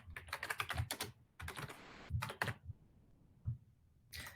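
Rapid clattering keystrokes on a computer keyboard, typed in quick irregular bursts with brief pauses, close and clear in a quiet room with no talking.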